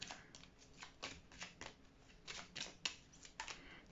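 Tarot cards are shuffled quietly at close range, a steady series of soft papery flicks and taps with a few sharper snaps, no voices over them.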